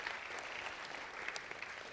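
Even, moderately faint applause from a session audience, many hands clapping in a steady wash with a few sharper claps standing out nearby.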